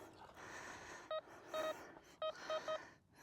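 Signal tones from a Pancky PK-0075 metal detector, a series of short clean beeps in quick bursts at different pitches over faint background hiss.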